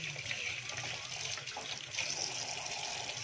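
Steady running water pours continuously while fish is washed, a close, even rush with no pauses.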